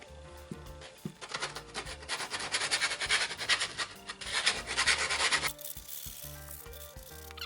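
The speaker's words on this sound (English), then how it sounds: "I'm going to go over this edge with a piece of sandpaper and just soften" Sandpaper rubbed along the sharp edge of a resin serving tray, a close, continuous raspy scrubbing in quick back-and-forth strokes that stops abruptly near the end.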